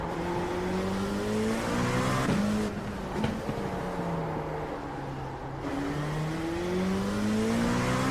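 LMP2 prototype race car in a racing video game at Silverstone, engine droning and rising in pitch through repeated gear changes, with short dips as it shifts and accelerates continuously, no speech.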